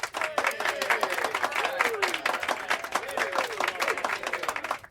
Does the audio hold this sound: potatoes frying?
no